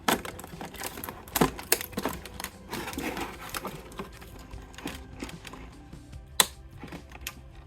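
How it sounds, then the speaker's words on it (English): Scissors or a blade snipping and tearing at the plastic packaging of a Monster Jam toy truck box, a run of close, sharp clicks and crackles spread unevenly through quiet, with no talk. "Oops, I cut the plastic."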